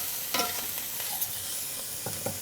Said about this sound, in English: zest, my chilli, my garlic, my parsley, and stir them around just to heat up